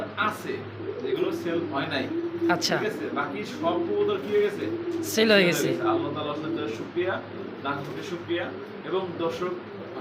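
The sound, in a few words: pigeons cooing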